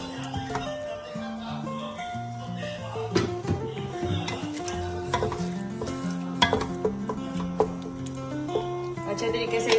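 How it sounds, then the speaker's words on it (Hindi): Spice masala frying in about half a cup of oil for kachnar keema, a steady close sizzle with stirring and scraping against the pot throughout, while a voice talks over it. "अब इसको ऑयल डाल के तो इसकी भुनाई कर लेंगे।"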